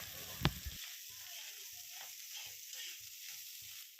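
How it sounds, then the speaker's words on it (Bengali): Leftover cooked rice fries in a pan with a faint, steady sizzle and occasional soft stirring scrapes, plus one sharp knock early on. "ভাবলাম ভাতগুলো ভাজা করে নিই"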